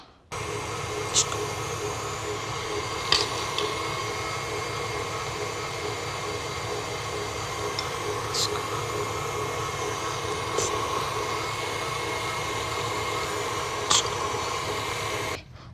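An electric mixer whirs steadily while beating butter and sugar into cake batter, a continuous close motor drone with faint periodic clicks of the beaters against the bowl.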